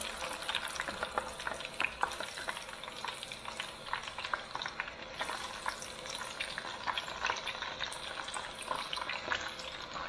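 Ingredients for sambal frying in oil to accompany Korean-style fried catfish, a steady close sizzle and crackle with occasional stirring, continuous and fairly loud with no talking.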